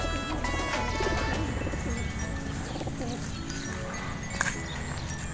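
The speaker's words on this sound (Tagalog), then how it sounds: "Ayan yung mga ibon natin." Racing pigeons in their loft, soft cooing and fluttering close by amid a busy background of other noise, with a sharp knock near the end.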